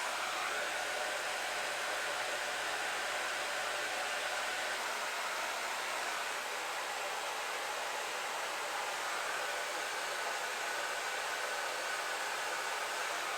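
A hair dryer runs on low heat at its lowest setting, blowing a steady, even airy whoosh that holds unchanged throughout with no other sounds.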